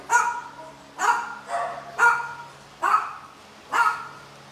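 Puppies at an animal shelter bark in six sharp, evenly spaced yaps, close and clear, with little else around them.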